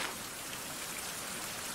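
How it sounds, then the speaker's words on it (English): Heavy rain pours steadily in the survival game Survival: Fountain of Youth, a dense, constant hiss of downpour filling the scene with no break and no voices. "Still raining like crazy."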